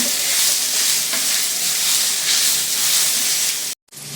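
Grated coconut being stirred into a pot of mutton sambar, a steady close sizzle and scrape running throughout before cutting off sharply near the end, with no talking.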